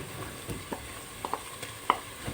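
Ginger garlic paste hits hot ghee in a pan with onions for aloo kari salan, giving a steady sizzle and fry under a few light spoon stirs and taps.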